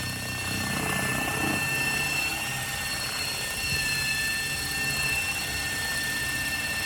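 A homemade helicopter runs at low rotor RPM during a test flight, giving a loud, continuous engine drone and rotor hum with a faint high whine, close by and without speech.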